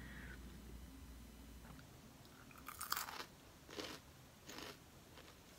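Someone bites into an edible field cricket, giving a few short, close crunches around the middle of the clip against a faint steady background hum.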